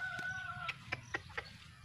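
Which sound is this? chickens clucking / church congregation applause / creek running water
chickens clucking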